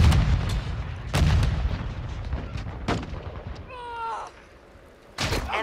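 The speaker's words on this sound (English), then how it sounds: "Grenade!" A grenade explosion in Call of Duty: Modern Warfare 2 lands amid heavy gunfire, with several loud booming blasts and sharp shots in quick succession and a short radio-like call near the end.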